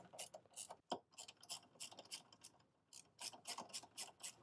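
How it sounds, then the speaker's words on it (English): A ratchet wrench tightening the bolts on a catch can bracket, a quiet close run of rapid clicking in repeated short strokes with brief pauses between them. "Next, we'll tighten down the bolts for the catch can bracket."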